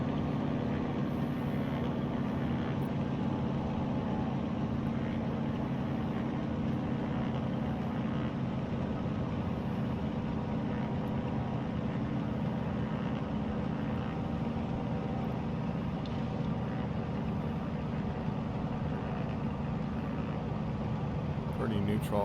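Steady drone of a WACO biplane engine at idle in Microsoft Flight Simulator 2020, a constant, even hum that holds for the whole stretch and is heard close, with no talk over it.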